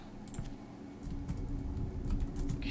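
Quick clicks of typing on an unresponsive laptop keyboard during a game, the keystrokes coming in an irregular run against a low steady hum.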